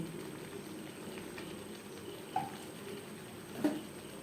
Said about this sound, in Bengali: তিন চার মিনিট বেশ ভালো করে ফুটিয়ে নেব।